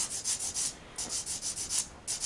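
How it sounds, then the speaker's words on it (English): Sandpaper rubbing flash off a soft resin figure, in quick repeated strokes that come in three bursts of scratchy rasping, close and steady, with no talking. "Because resin is so soft, it will sand away pretty quickly."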